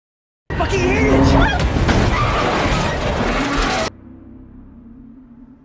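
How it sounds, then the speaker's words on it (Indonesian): Movie chase: a car races up behind another and rams it, loud engine roar with tire skids and a crunch of impact, then a sudden cut to a quieter low rumble; voices faintly mixed in. "Jerry sudah mengejar mereka dan kemudian menabrak mobil mereka"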